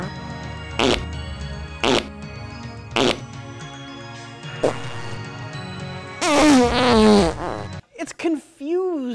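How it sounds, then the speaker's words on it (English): A cartoonish fart sound effect repeated several times in short spaced bursts, followed by buzzing, warbling noises, with faint voices underneath. "you could add a fart sound effect over and over"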